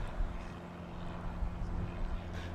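A small aircraft flying touch and goes at an airfield, heard as a steady low engine drone, distant and continuous beneath background noise.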